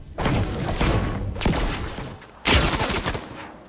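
Gunfire in the video game Fortnite, three bursts of rapid shots, each a dense rattling volley that fades into echo, the last one loudest.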